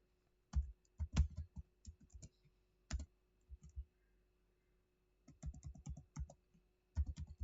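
Typing on a computer keyboard in irregular bursts of crisp key clicks, close and fairly quiet, with short pauses between runs of keystrokes.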